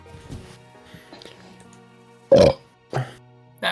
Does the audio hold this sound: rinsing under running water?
no